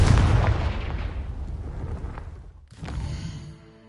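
Confringo spell explosion in the Hogwarts Legacy video game: a loud booming blast that decays over a couple of seconds, followed by a second softer burst and rumble.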